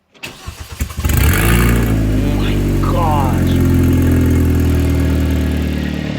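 A Kia K5 Optima engine cranks over a few times, catches and settles into a loud, steady idle nearby, with a person briefly talking over it.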